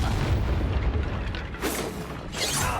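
Confringo blast spell bursts in Hogwarts Legacy, two sharp fiery booms about a second apart over low rumbling combat noise, fairly loud and close with no talking.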